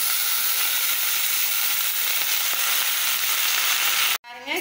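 Manathakkali greens sautéing in a pan produce a loud, steady, close frying hiss that stops abruptly near the end, after which a faint brief tone is heard.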